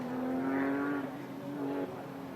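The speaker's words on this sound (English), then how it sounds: "A little bit tentative back on throttle there, leaving one of the hairpins, but continuing up the ascent in that Porsche 911 GTR Pikes Peak." A Porsche 911 GTR race car climbs Pikes Peak. Its engine whines at a moderate distance, rising through the revs in two quick gear steps as it accelerates away from a hairpin.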